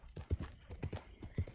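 Horse hooves in Red Dead Redemption 2 clip-clop at a steady walking rhythm, roughly eight close, distinct thuds in quick succession without talk.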